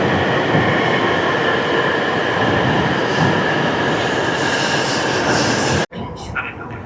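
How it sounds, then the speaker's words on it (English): A Shinkansen bullet train rushing along through snowy country, with a steady loud interior rumble and rolling track noise throughout, briefly cut by a sharp drop near the end before the roar resumes. "here we have our Shinkansen, crazy looking train"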